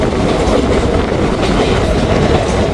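Passenger train on the Chhindwara to Nagpur line running steadily on its rails, a loud, continuous rumble with rhythmic clickety-clack of wheels over track joints, heard from inside the carriage with no talk.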